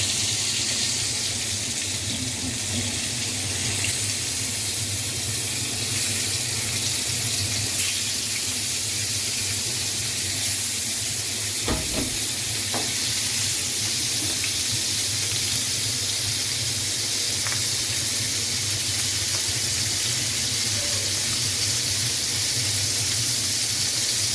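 Hilsa fish coated in spices, onion and green chilli frying in hot oil, a steady close sizzling hiss that runs on without a break, with occasional faint clinks.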